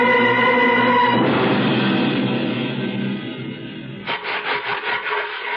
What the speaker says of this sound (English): harsh rubbing was the way to shift grease off my old coal stove